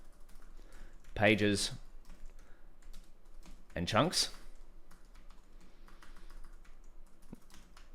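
Light clicks from a computer keyboard as code is typed, scattered and faint, broken by two short bursts of someone speaking.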